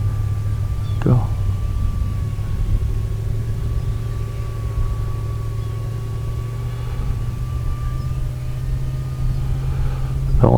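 Hubsan H301S Spy Hawk drone motor revving at higher throttle in flight near a mountainside, a steady whining drone tone over continuous wind-like rumble, with brief bumps in pitch.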